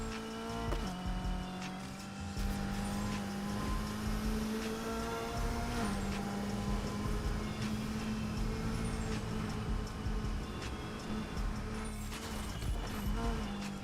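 A BMW i8 racing in Need for Speed Heat gives a steady electric-hybrid drone with shifting engine tones that runs continuously, with a voice talking now and then over it.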